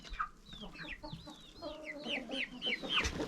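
Several chickens on a Bulgarian homestead barnyard cluck and chatter close by, a busy run of short, bouncy calls overlapping one another with no pause.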